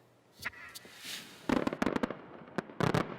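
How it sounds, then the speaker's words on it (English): Fireworks bursting over Tokyo Harbor at a celebration heralding the Olympic torch relay, with a scattered opening pop followed by dense clusters of sharp cracks and bangs, fairly loud with no talking. "Fireworks fill Tokyo Harbor and fanfare heralds the torch relay"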